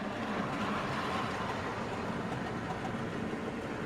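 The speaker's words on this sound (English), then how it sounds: "That's my parcels train on the way." A model railway parcels train runs along the track with a continuous, even rumble and rolling hiss that stays steady throughout, with no voices.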